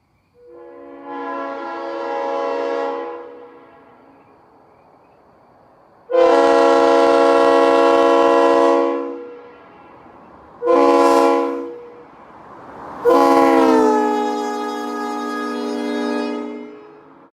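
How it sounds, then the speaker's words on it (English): A Leslie S3L chime horn on New York Central locomotive 3100 sounds four loud, sustained chordal blasts of varying length, the last one rising slightly in pitch as it starts. "Here's an idea of what 3100's horn would have sounded like."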